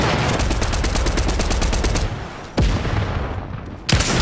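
Loud, rapid gunfire from Fortnite Chapter 3 Season 1, a dense automatic burst with single sharp shots cracking in before and after it, close and dominant.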